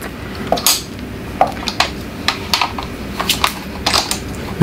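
A Fantaseal adjustable DSLR clamp for a Sony A1 is tightened onto a pole, giving a series of close, irregular metallic clicks and light knocks that come in quick clusters, with no talk.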